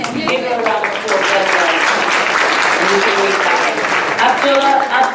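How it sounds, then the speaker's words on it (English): A school awards ceremony audience gives a sustained round of applause, loud and dense throughout, with a voice speaking over the clapping at the start and again near the end. "Give her a round of applause."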